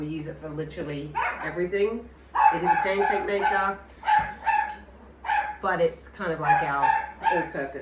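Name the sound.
dog barking in kitchen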